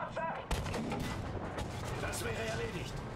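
Battlefield video game combat with a loud tank cannon blast followed by dense, continuous gunfire and artillery rumble filling the whole stretch, with shouted voices mixed into the din.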